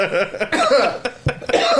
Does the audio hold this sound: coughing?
yes